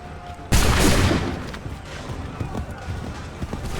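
A volley of musket fire rings out in the Assassin's Creed 3 video game, a sudden loud burst of gunshots followed by lingering crackle and rumble of battle, with shouted voices underneath.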